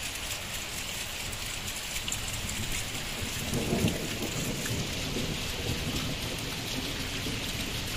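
Heavy overnight rain lashes a flooded village in strong wind, a constant dense hiss of drops with a low rumble of thunder rolling in midway, no voices over it.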